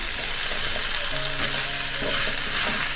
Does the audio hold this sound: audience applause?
no